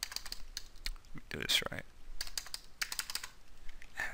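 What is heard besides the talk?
typing on a computer keyboard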